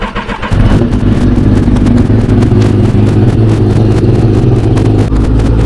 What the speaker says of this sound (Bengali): গাড়ি, গজরাচ্ছে।